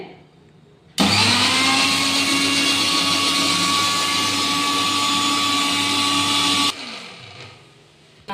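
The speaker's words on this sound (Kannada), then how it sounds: "ಈಗ ಇದನ್ನು ಒಂದು ರೌಂಡ್ ಹಾಕೊಂಬರೋಣ ನಾವು ಮಿಕ್ಸಿಗೆ" A mixer grinder churning cream into butter starts abruptly and whirs loudly at a steady high pitch for several seconds, then switches off and winds down.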